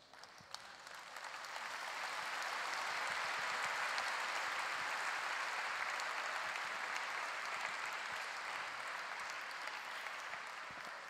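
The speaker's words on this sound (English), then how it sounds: "Standing ovation for all of them, please rise." Standing ovation from a large audience at a school prayer assembly, applause swelling over the first few seconds into a thick, even roar of clapping that holds steady to the end.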